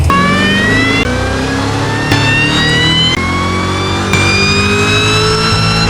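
A supercharged Cadillac CT5-V Blackwing engine revs repeatedly, pitch climbing through each burst with a high supercharger whine on top, loud and close, several rising pulls in succession.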